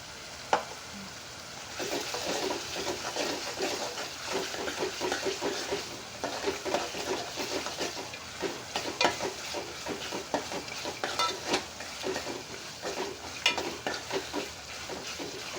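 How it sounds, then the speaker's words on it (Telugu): Masala for chicken tomato curry sizzles in hot oil while a spoon stirs it in steady repeated scrapes, a close, continuous crackling fry with rhythmic stirring strokes throughout. "మసాలా అలా ఆయిల్ వచ్చేలాగా వేపుకోవాలండి, లేకపోతే పచ్చి వాసనగా ఉండిద్ది."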